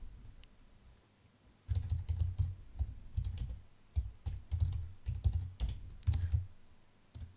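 Keys typed on a computer keyboard while a subtask is written in a goal-setting app: rapid clustered clicking in several bursts, close and moderately loud, after a quiet opening second.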